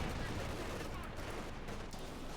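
Field guns firing in the Company of Heroes 2 war strategy game, a dense, continuous rumble of battle noise with overlapping booms filling the whole stretch, no clearly separated shots.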